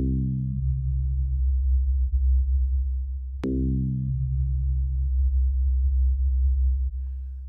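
FM synthesizer note with an envelope on the modulator, played twice: each starts bright and buzzy, then mellows to a smooth steady tone as the brightness fades, like a closing low-pass filter, with no talk.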